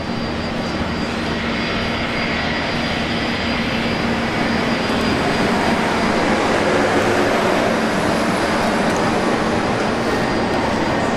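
An aircraft landing on runway 01 left at Brisbane Airport, a steady broad roar of engines and rushing air holding evenly throughout at moderate distance, with no talk.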